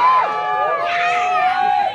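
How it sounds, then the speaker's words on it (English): A crowd at a Boulder gig shouts and cheers loudly, a brief burst of overlapping whoops and voices close by. "we've never played for louder crowds"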